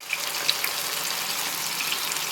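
A spoonful of water is added to tomato masala in a hot pan, giving a steady, even sizzle and hiss that holds without pause.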